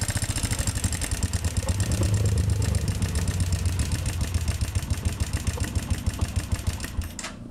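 A Honda TMX125 motorcycle engine with a starting fault runs noisily and unevenly, a close, loud, rapid chugging idle with rattling ticks that continues steadily throughout.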